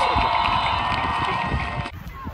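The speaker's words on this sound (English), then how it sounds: "how about a round of applause for both teams" A loud crowd at a high school homecoming football game cheers and shouts continuously, with a broad roar of voices and some clapping that cuts off sharply near the end.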